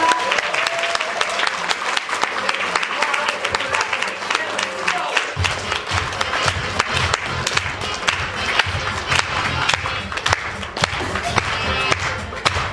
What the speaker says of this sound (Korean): 나오실 때 큰 박수로 환영해 주시기 바라겠습니다.